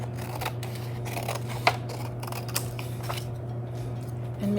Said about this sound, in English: To make a cross, all I'm gonna do is cut a strip of paper